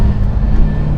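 A car engine with a 750 or 600 CFM carburetor, double pumper or vacuum secondary, rumbles loud and close as the throttle is tipped in, its low drone faltering unevenly rather than revving cleanly.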